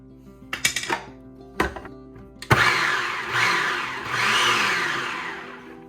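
Food processor blade whirring through onion chunks for salsa, starting with a few short pulses before running continuously for a few seconds, loud and close.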